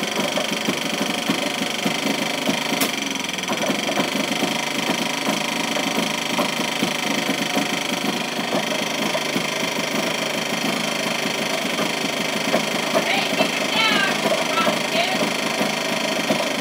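A small engine fitted with a muffler runs steadily outdoors at night, its muted, even drone continuous and close throughout, with some voice over it.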